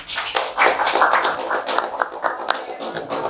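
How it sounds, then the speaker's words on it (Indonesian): A small audience claps for guests at a toy-maker gathering in Malang: a dense, steady patter of hand claps lasting about three seconds, fairly close, with no talking over it. "Tepuk tangan ya teman-teman."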